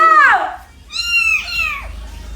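Two clear, drawn-out cat meows sound close by, one after another with a short pause between, with no talk over them.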